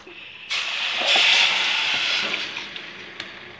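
Water is poured onto sugar in a pan for mint squash syrup, producing a steady rushing hiss that swells, then gradually tapers off, with a few small knocks near the end.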